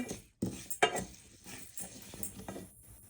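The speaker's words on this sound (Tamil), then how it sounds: "அடுத்தது உளுந்து வறுக்கிறேன்." Urad dal roasting in a pan while a spoon scrapes and clinks against the metal, a few sharp taps over a faint dry sizzle, close and quiet with no talking.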